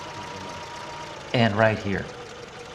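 An old engine fitted with an improved ignition coil runs steadily at a low, even idle throughout, while someone speaks briefly over it in the middle.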